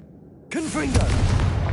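A Confringo blasting spell goes off in Hogwarts Legacy, a sudden booming burst with a rumbling tail that breaks in after a near-silent start.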